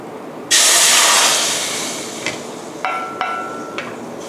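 Coconut milk for a sweet sauce for candied bananas hits a hot pan with a sudden loud sizzling hiss that slowly fades. A few light metallic clinks follow.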